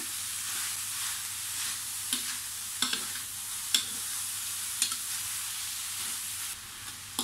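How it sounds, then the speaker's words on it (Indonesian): Vegetables for spicy fried tofu filling stir-frying in a pan, a steady close sizzle with occasional scraping stirs of the utensil against the pan. "ini ditumis sampai layu ya"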